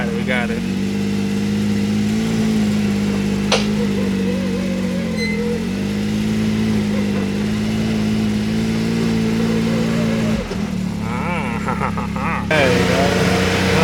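A Toyota Supra's engine runs steadily at close range, a continuous mid-pitched drone with slight rises as it is given gas, while people talk over it.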